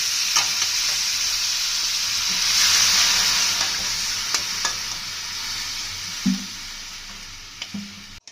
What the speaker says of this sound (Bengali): মা একবার উল্টে পাল্টে নেড়ে দিচ্ছে